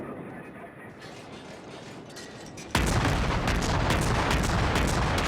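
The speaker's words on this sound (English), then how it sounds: "Wow, this thing's guns barrage isn't bad." Naval gunfire from a warship in World of Warships, a dense continuous barrage of booming shots that swells abruptly into a louder, sustained roar partway through, with no talk over it.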